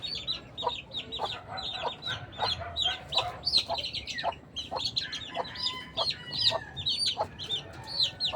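Young backyard chicks cheeping and peeping in quick, overlapping bursts, close and fairly loud, with a few clucking notes mixed in and no talking.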